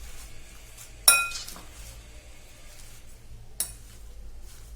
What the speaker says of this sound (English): थोड़ा सा ऑनियन, ये सबको मैं अच्छे से मिक्स कर लेती हूँ।